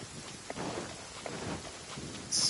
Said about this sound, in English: Marching in the rain conceals the sound of our arrival, but is also a test of stamina.